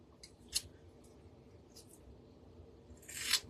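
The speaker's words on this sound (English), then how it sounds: "I'm going to just cut little strips." Scissors snip rice paper into thin strips for a birdhouse craft, with a couple of crisp, close cuts, the last one longer and louder, and quiet in between.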